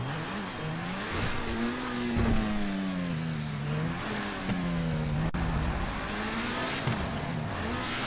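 A Porsche Cayenne engine in Grand Theft Auto V revs up and down repeatedly, rising and falling in pitch as a close, sustained mid-range motor whine, with tyre and road noise underneath.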